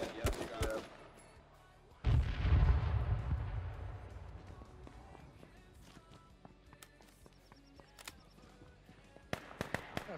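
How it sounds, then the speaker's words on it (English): Gunfire in the H1Z1 battle royale game opens with a few sharp shots, then a heavy burst of fire that trails off into a low rumble. Scattered shots return near the end, with no talk over them. "He's still shooting me."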